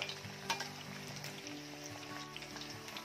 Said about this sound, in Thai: ค่อยๆทอดไฟกลางนะคะลดไฟลงนะ